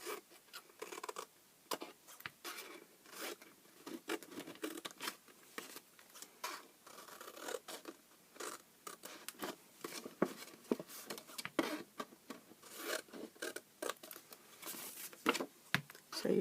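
Scissors snipping and notching a paper milk carton up close: quiet, irregular crisp cuts and papery crinkles in quick bursts, with brief pauses between groups of cuts.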